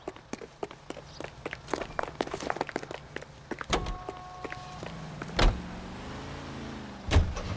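Car doors and footsteps from the video game L.A. Noire as characters climb into a car, with a series of clicks and steps, then a heavy door thump, a low engine hum and another door slam.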